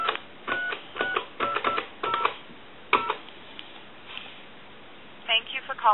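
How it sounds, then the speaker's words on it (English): A Snoopy Woodstock novelty telephone being dialed: a run of short tone beeps in quick succession, then a lone beep and a steady dial tone, with a voice speaking at the end, all close and band-limited like a phone line. "we'll dial one other number, give you some dial tone"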